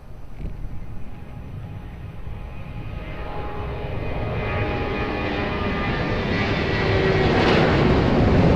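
An airliner landing on runway 02 at Lisbon Airport, its broadband engine roar building steadily and growing louder throughout as the plane approaches nearby, with no talk.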